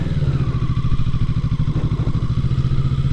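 A motorcycle engine chugs close by in a steady, rapid pulsing rhythm as the bike pulls away, loud and continuous with no voices.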